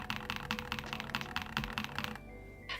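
Typing on a mechanical keyboard fitted with EpoMaker Wisteria switches: a rapid, steady run of close key clacks over a quiet hum, stopping near the end with one last soft click.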